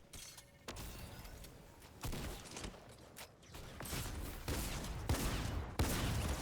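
Pump shotgun fire in Fortnite Battle Royale: several loud, sharp blasts spaced irregularly among other gunfire and game clatter, with no talking.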